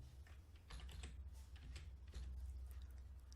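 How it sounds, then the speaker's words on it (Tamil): Quiet, rapid keystrokes on a computer keyboard, a short burst of close clicking taps with no talk, as someone types a search into a web browser. "என்விஎஸ்பி அப்படின்னு டைப் பண்ணிட்டு நான் சர்ச் அப்படின்னு கொடுக்குறேன்."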